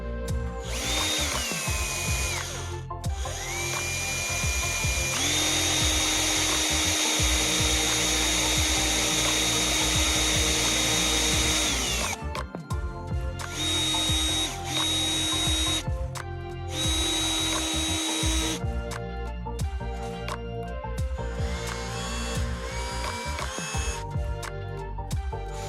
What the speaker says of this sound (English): It's a kind of a stone sanding Dremel tip. I just put it in my drill.